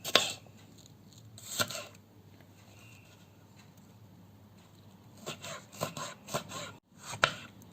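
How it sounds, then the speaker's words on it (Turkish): Crisp knife chops strike a cutting board as tomatoes are diced, a couple near the start, then a quick run of chops close by after a quiet pause. "Yemeklik bir şekilde ayrı bir tabağa doğruyorum."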